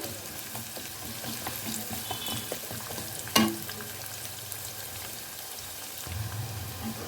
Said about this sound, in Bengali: এখন আমি এই পেঁয়াজটাকে হালকা লাল করে কিন্তু একটু ভেজে নেব